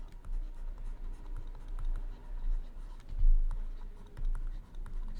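A pen scratches on paper while a math problem is worked out, with close, continuous strokes and small tapping pauses over a faint low hum.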